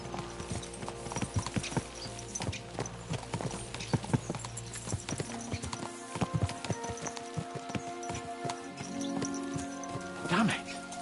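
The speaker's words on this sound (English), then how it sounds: "Let's really spur these horses on, eh?" Horses gallop in Kingdom Come: Deliverance II, their hooves beating a fast, rhythmic clip-clop with tack jingling. Someone talks over the hoofbeats, and a horse whinnies near the end.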